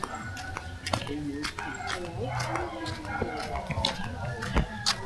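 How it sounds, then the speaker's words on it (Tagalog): Dogs at an overnight campsite on a farm in Tanay bark, yip and whimper repeatedly in short bursts, some close and loud, others further off, mixed with background voices and camp noise. "Baka mag-away-away ng mga aso eh."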